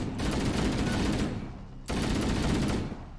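Two sustained bursts of automatic gunfire in a video game firefight between humans and Covenant forces, loud and dense, with a brief gap between them.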